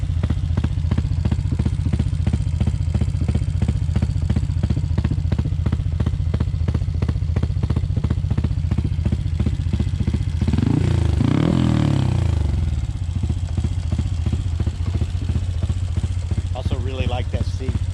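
Honda CT motorcycle engine running close by with a rapid, steady loping putter; partway through the throttle is blipped into a brief rising rev before it settles back to the same chugging rhythm.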